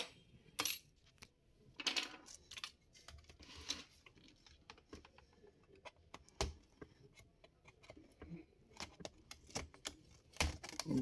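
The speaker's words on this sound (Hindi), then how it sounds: "अब ये कीबोर्ड इसका जो है ना हम निकाल लेंगे बाहर" A laptop keyboard is pried and lifted out after its screws are removed: scattered close, sharp plastic clicks and light rattles with quiet gaps, and no talking.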